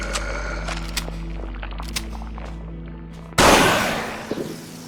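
A shotgun blast goes off in a survival horror video game: one loud, sudden shot near the end that decays away after a stretch of quieter game sounds.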